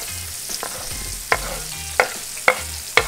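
Garlic and vegetables sizzle in a hot pan while a utensil stirs them, giving about five sharp scraping strokes at a loose, regular pace.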